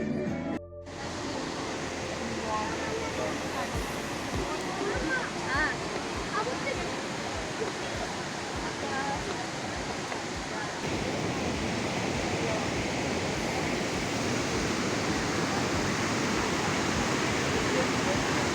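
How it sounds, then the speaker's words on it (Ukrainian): Steady, broadband roar of the Probiy waterfall in western Ukraine, heard up close and loud throughout with a crowd of visitors nearby, constant with no breaks. "водоспад, пробій. Спустились ми вниз до нього."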